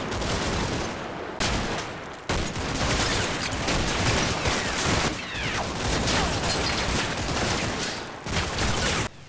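Dense, continuous gunfire from a simulated infantry assault in the wargame Combat Mission Red Thunder, with many overlapping rifle and machine-gun bursts forming a loud, sustained roar broken by only a few brief pauses.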